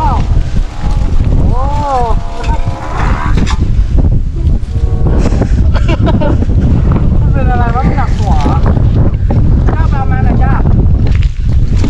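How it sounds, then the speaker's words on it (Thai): Strong wind buffets the microphone outdoors while kites fly, a loud constant roar with gusty rumble, as someone talks over it. "ลมมาแรงมากเลย"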